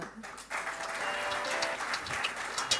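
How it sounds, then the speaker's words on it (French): A conference audience applauds the speaker Milan with a steady spread of many clapping hands that swells and carries on to the end. "je vous remercie d'applaudir Milan"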